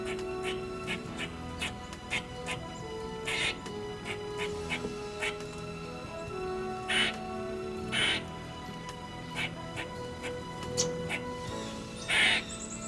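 A squirrel gives a warning alarm bark, a series of sharp, repeated calls spread through an outdoor scene, with steady background noise and other faint calls around it.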